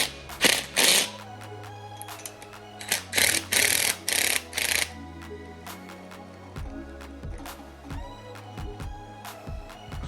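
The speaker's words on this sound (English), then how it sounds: "So now it's time to tighten down these bolts." A ratchet tightens the oil pan bolts on an LS 6.0 LQ9 engine: several close bursts of rapid clicking, then scattered softer metallic clinks and taps in a quiet workshop.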